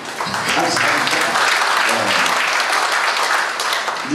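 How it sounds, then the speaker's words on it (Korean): An audience applauds at a ceremony honoring a committee chairman during a joint wedding event in Incheon, with dense, steady clapping throughout that has faint voices mixed in. "문한진 위원장님께 박수 부탁드리겠습니다"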